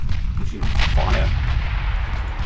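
Warship guns firing in Ultimate Admiral Dreadnought, a loud booming artillery blast with a sharp crack that rumbles and decays across the short moment.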